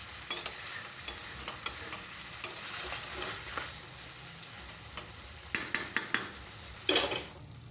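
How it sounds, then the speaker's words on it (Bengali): Ginger paste and garlic being stirred into spices in a pan for a mutton curry: a steady low sizzle under repeated scraping spoon strokes and clinks, with a cluster of sharper metallic scrapes near the end. "ভালো করে আদাটা মিশিয়ে নেব মশলার সাথে।"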